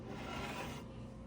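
Rust being scraped from bare metal on a 1962 Impala under restoration, a close, steady rasping scrape that fades out after about a second.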